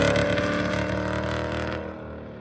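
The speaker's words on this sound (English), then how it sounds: "I could tell from the sound of the exhaust that something was still off." A Ford Mustang 4.6 V8's exhaust drones steadily up close, a throaty rumble that eases and fades over a couple of seconds.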